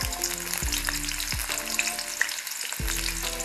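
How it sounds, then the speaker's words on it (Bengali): Chopped onions hitting hot soybean oil in a wok for a bitter gourd dish: a steady close sizzle with light crackles, overlaid by a repeating low hum that rises and falls about every second. "এবার আমি এর মধ্যে দিয়ে দিচ্ছি পেঁয়াজ কুচি।"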